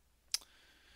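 A single crisp mouse click, close and faint, in a quiet room.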